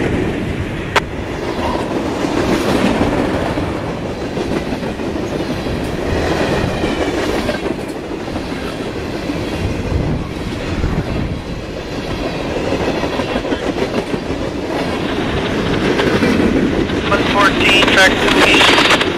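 A freight train rolls past at Amsterdam, New York, with steady wheel rumble and clickety-clack from the railroad cars through the whole stretch, loud and close, while people talk faintly in the background.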